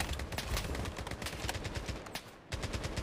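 Rapid game gunfire from the shooter Blood Strike, played on mobile, rattles in dense automatic bursts with a brief lull near the end before the shots resume, loud and steady throughout.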